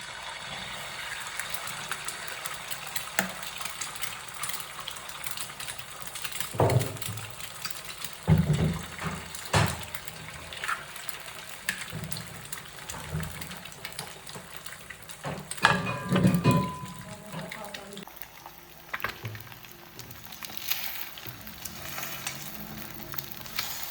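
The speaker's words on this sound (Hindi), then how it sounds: "सो यहाँ बना लेते हैं फ्राई एग्स।" Eggs fry in a pan with a soft, continuous sizzle, punctuated by a few louder clatters and scrapes from moving the pan or utensils.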